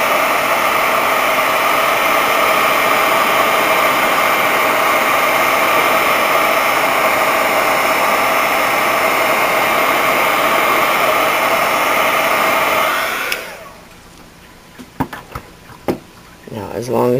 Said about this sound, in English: as long as your heat gun is already hot, that's why I heat it up off camera, so you don't have to just listen to it run